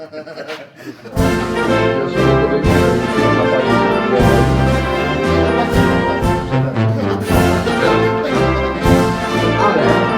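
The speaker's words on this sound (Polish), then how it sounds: "I teraz hymn." National anthem played over loudspeakers at a karting championship awards ceremony at Racing Center Łódź, loud full instrumental music starting after a brief quiet moment and continuing steadily.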